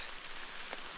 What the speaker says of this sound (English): And we have our first rain of the day.